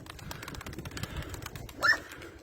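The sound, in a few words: pigeons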